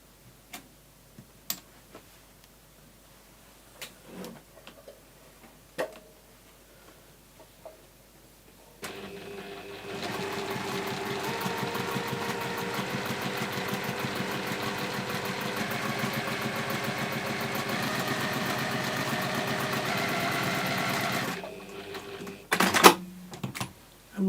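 A sewing machine stitches fabric in a steady, close, continuous whir of about twelve seconds, preceded by scattered handling taps and ending with a few sharp clunks.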